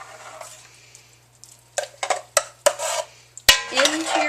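A big ladle scooping hot tomato soup out of a full pot into a blender, sharp metallic clanks and scrapes close by, with wet sloshing between the knocks.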